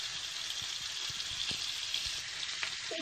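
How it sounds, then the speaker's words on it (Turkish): A 250-gram block of margarine melting in a pan for topping water baklava, a steady close sizzle and crackle with faint scattered pops and light stirring. "baklavamın üzeri için bir paket margarin eritiyorum"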